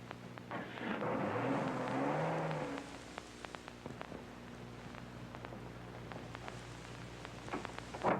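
A car pulls away and recedes, its engine swelling for a couple of seconds before fading to a low hum with scattered soft clicks and rustles, no voices.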